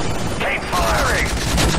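Gunfire during the Call of Duty Modern Warfare 3 final mission, rapid bursts and mechanical clatter under a dense roar of battle, with a few faint whooshing sweeps passing overhead.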